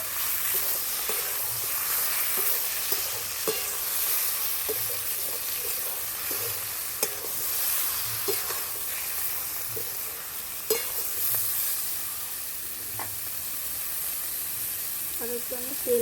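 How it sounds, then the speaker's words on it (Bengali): Ripe plantains sautéing in oil in a pan give a steady, close sizzle with occasional soft clicks of stirring, the frying noise running continuously throughout. "তেলের উপর আমি পিচা কলাগুলোকে কষে নিচ্ছি।"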